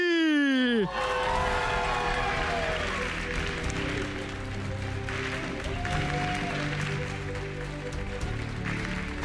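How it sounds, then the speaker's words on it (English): A large crowd at a Pokémon TCG regional championship applauds and cheers steadily for a player, a dense sustained roar following a swooping tone at the start. "there's a massive crowd cheering for you"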